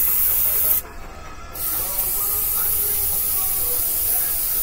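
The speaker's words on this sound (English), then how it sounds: "This was my original spray gun going." An old spray gun sprays linseed oil or motor oil onto a car's underside lines, giving a close, steady hiss with one short break before the spraying resumes.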